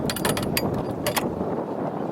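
Line is wound onto a Shorething Kontiki fishing reel with a quick run of close ratchet clicks, a brief pause, then a few more clicks over a soft outdoor rush of wind.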